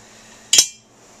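Oiled metal bearing dropping into a heated engine crankcase, a single bright metallic clink with a short ringing decay, close and alone in near silence.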